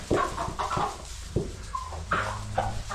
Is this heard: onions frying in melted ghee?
no